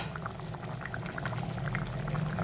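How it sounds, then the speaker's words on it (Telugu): A thick bitter gourd and tamarind stew bubbling in a pot, with a steady, close simmering burble of bursting bubbles that grows slightly louder. "దగ్గరికి మరిగింది చిక్కగా."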